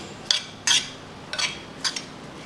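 Chopped onions being mixed with salt, Kashmiri chili powder, turmeric, fennel seeds, green chilies and dried mango powder for an onion pickle, with four short spoon scrapes and clinks against a bowl over a quiet background.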